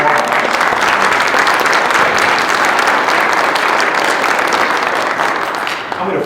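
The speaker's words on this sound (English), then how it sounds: "Please give them a round of applause." Sustained, loud applause from an audience greeting a professional skydiving exhibition team at a fireside chat event, steady dense clapping throughout with crowd noise and no pause.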